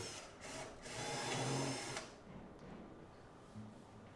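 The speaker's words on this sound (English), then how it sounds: "start pre-drilling my pilot holes and countersinks for the fillers" Power drill boring pilot holes and countersinks in a wooden cabinet during an installation between walls, a steady whirring buzz for about two seconds that then stops, leaving quieter room noise.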